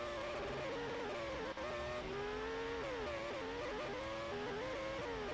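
A race car engine screaming on a flying qualifying lap around the Baku street circuit in a racing video game, revs rising and dropping through gear changes, steady and close.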